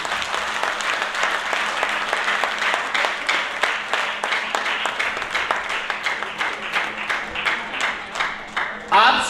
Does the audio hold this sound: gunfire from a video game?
no